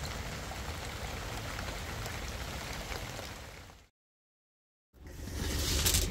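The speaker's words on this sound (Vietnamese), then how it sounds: "Sáng sớm mưa bão tới rồi cô chú anh chị ơi" Heavy early-morning storm rain falls steadily as a dense, loud wash, breaking off into about a second of silence before resuming even stronger.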